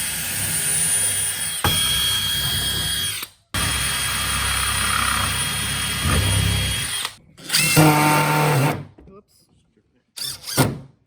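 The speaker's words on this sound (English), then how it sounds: "we'll pre-drill these and you can" A power drill pre-drilling wood whines loudly in several long bursts, with short pauses between runs and a shorter final burst, close up.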